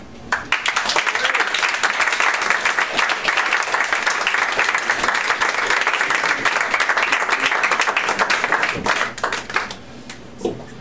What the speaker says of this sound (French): on l'applaudit encore une fois, mesdames et messieurs